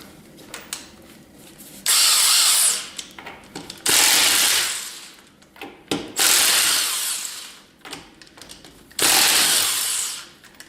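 Impact wrench zipping lug nuts off a Jeep Grand Cherokee wheel raised on jack stands, four loud, close bursts of rattling hammering, each about a second long, separated by short pauses with clanking in between.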